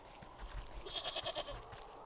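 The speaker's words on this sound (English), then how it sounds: "I just see goats" A few short goat bleats sound over a low background murmur in the video game Wytchwood, soft and moderately distant, clustered within about two seconds.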